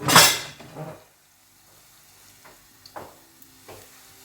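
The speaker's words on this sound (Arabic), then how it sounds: "غادي نبدا نقلي. الزيت راه سخن." Moroccan chebakia pastry dropped into hot oil: a loud burst of sizzling and bubbling at the start, then a few fainter sizzles and light stirring scrapes in a quiet kitchen.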